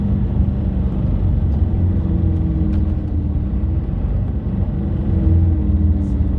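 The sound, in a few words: bus engine and road noise from inside a moving bus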